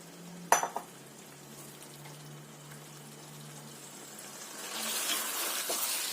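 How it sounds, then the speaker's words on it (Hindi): Capsicum tipped into a pan of chicken curry lands with a few sharp clatters, then a quiet steady frying sizzle rises and grows louder as it is stir-fried. "जो हमारी शिमला मिर्च है उसको अंदर ऐड करके भूनेंगे"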